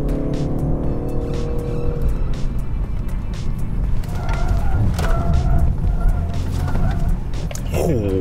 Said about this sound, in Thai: เราจะขับรถไปโดยที่ไม่เหยียบเบรกเลยนะครับความเร็วประมาณ60กิโลเมตรต่อชั่วโมงแล้วเราก็จะหักหลบไปทางซ้ายทีนึงแล้วก็หักหลบกลับมาที่ทางขวานะครับ